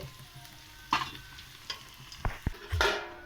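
Fried kuchia fish comes out of sizzling oil: a low continuous hiss broken by several sharp scrapes and clinks of a utensil against the pan, the last one longer and louder.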